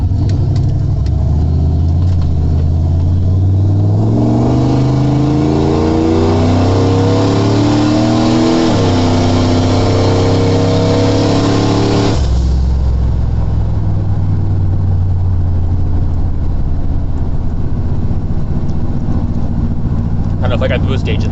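A car's engine roars loudly up through the gears with rising whine, a downshift blip, then further acceleration before easing off into steady cruising; close, in-cabin sound with a boost gauge mentioned.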